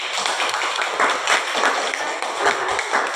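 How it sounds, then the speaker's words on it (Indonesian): Children in a classroom clap for Raisa, a scattered, uneven patter of small hands close by in short bursts, with no talk over it. "Tepuk tangan buat Raisa"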